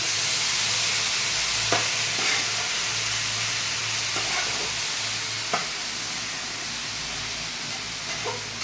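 Steady sizzle of ground coriander, cumin and chilli masala frying in a pan after a splash of water, a continuous hiss with occasional soft stirring clicks.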